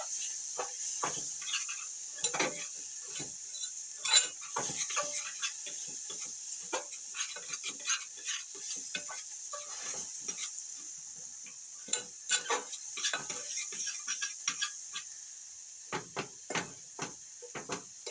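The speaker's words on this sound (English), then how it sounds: "Now we just have to stir the veggies." Vegetables with cherry tomatoes stirred in a cooking pan, a steady series of light scraping clicks and taps from the utensil against the pan, close and fairly quiet, with no talking.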